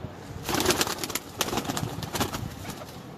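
A Teddy pigeon coos in a short run of soft, rhythmic pulses close by, with no talk over it.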